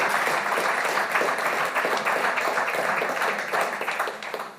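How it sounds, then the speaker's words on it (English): Audience applause at a town planning question-and-answer session, a steady, dense crowd clapping that holds for several seconds and begins to thin at the end. "Did I just get clapped for"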